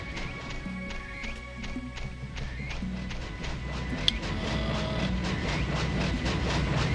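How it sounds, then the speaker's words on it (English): A train arrives in the samurai-era game Way of the Samurai, giving a steady rising rumble with repeated rhythmic clanks and clacks of rolling wagons, growing louder toward the end with a sharp metallic hit partway through. "Train's here."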